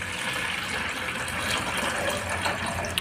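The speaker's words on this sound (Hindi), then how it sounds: "तो इसमें मैंने 800 ग्राम पानी ले लिया है" Tap water gushes steadily into a container while 800 grams of water is measured out for homemade detergent liquid, a continuous close rushing splash with no talking.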